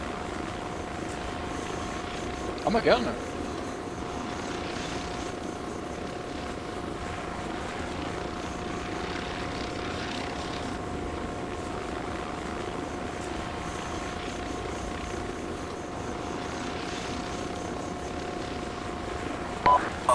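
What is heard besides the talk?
helicopter flying in a video game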